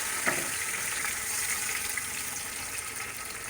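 Sliced tomatoes frying in oil over medium heat in a pan, a steady soft sizzle with a watery hiss, a brief louder burst near the start as they hit the oil.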